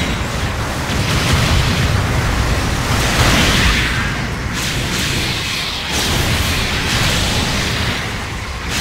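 Explosion of a destroyed enemy mobile suit in a mech combat video game, a loud rumbling boom that sustains as a dense roar for several seconds with swelling bursts, no talking.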